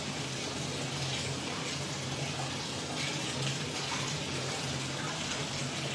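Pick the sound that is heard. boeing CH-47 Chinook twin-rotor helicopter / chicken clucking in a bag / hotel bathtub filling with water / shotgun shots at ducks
hotel bathtub filling with water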